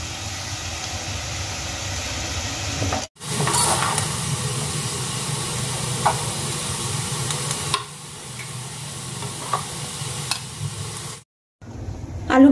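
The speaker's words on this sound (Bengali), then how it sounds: "এবার আমি আলুগুলোকে ভালো করে ভেজে নেব।" Potatoes frying in hot oil for an egg curry, a loud continuous close sizzle broken by brief pauses, with occasional faint clinks and no talk.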